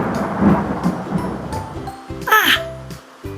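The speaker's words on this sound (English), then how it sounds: "The thunder is pealing." Loud pealing thunder rumbles through a storm, a rolling low roar that swells and fades over a few seconds with a sharper crack partway through.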